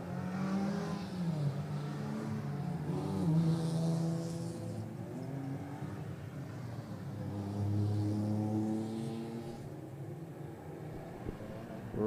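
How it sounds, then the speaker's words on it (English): Clubman's race cars on the Killarney circuit, several engines revving and rising in pitch through gear changes, sustained and fairly close over twelve seconds. "the Clubman's cars are being released out onto the circuit"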